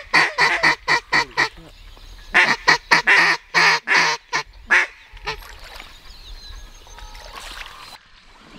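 A flock of ducks on a New Zealand North Island duck hunt quacks loudly in rapid bursts at close range, then fades to scattered distant calls and outdoor background.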